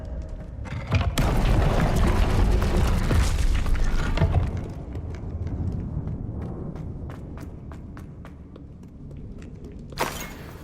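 A Confringo spell in Hogwarts Legacy detonates with a loud booming blast that rumbles on for several seconds. Scattered debris clatters afterwards, and a smaller crack comes near the end.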